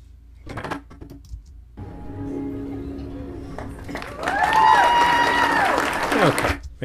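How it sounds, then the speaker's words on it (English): Clapping from an audience at an event, a steady patter of many hands that swells louder late on, mixed with a tonal whine and someone talking over it. "I need to lower the clapping on this section here."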